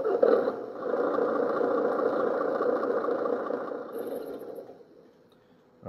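A model Scania truck's simulated engine sound idles steadily at mid pitch for several seconds, then fades out, with no talking.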